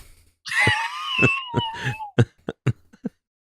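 A voice imitates a cat with a long, wavering, drawn-out meow, followed by a handful of short, sharp clicks and pops.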